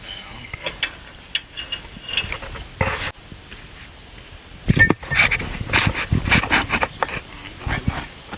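Hand tool tightening Skunk2 upper control arm bolts on a Honda EK front suspension: close ratcheting clicks and metallic mechanism clatter in uneven bursts, with some rustling between.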